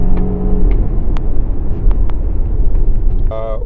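A Volvo XC90 with a supercharged and turbocharged 2-liter inline four accelerating hard, loud continuous low engine rumble heard from inside the cabin, with a brief voice near the end.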